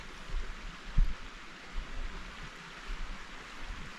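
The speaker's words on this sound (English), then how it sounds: "Sit here and listen to the creek." A flowing creek at dusk on a hillside during a spring scouting trip, giving a steady, soft broadband wash of water that runs unbroken throughout, with one brief low thump near the start.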